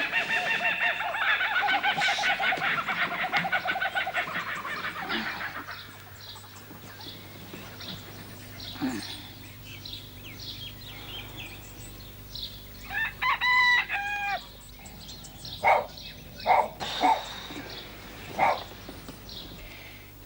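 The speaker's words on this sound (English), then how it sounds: "Oh, bloody birds." Chickens and a rooster crow and cluck loudly in a dense flock for about five seconds, then calmer, scattered clucks and short calls follow over a low steady hum.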